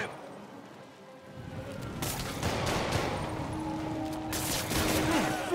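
Gunfire from the Marvel's Spider-Man video game rattles in dense overlapping bursts after a quieter opening, a sustained fusillade of shots with mechanical clatter, loud and close throughout.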